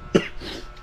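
One short, sharp human cough, close and alone, with a little throat noise trailing after it.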